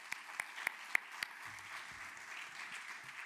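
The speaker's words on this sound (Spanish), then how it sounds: "Un aplauso para Sam y Israel" Applause from an audience at a tribute screening in Ibiza, honouring a documentary's producers, opens with a few sharp separate claps and then settles into a soft, steady patter heard from a distance.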